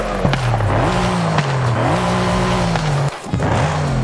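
A Brabus 800 revving hard in the racing game Forza Horizon 5, its engine note climbing and dropping through gear changes with tyre squeal, loud and continuous with a brief dip near the end.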